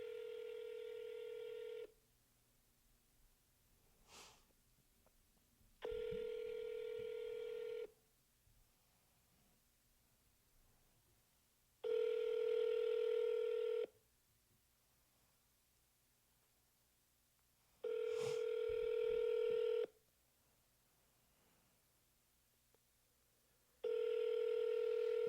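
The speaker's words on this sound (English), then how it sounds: "this is like what's expected on dial sessions, like a lot of ringing, sometimes not a lot of answering" A phone line rings with five evenly spaced electronic ringback bursts, each about two seconds long with a few silent seconds between, while cold-calling expired real estate listings. No one answers and no voices are heard.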